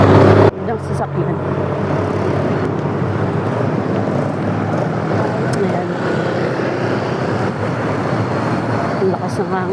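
Continuous roar of road traffic with vehicles rumbling past nearby, and a brief spoken word near the start.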